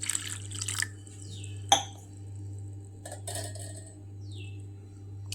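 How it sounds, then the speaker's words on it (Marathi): Water poured into a bowl of poha and semolina (rava) for appe batter, heard as close splashes and drips with a sharp clink of the bowl and faint hum behind. "तर आणखी थोडं पाणी ओतूया।"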